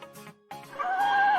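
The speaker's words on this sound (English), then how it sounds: "This is a horse." A horse whinnies close by: a brief broken call followed by a longer, wavering, high-pitched neigh that swells and holds to the end, with no other sound around it.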